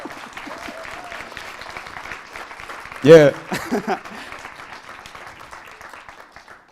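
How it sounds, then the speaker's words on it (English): Audience applause at a spring poetry reading, a short burst of clapping that rises suddenly and fades within a couple of seconds, set against soft room murmur and a brief spoken word. "I just really needed those applause in the middle."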